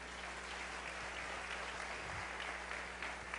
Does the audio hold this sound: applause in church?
yes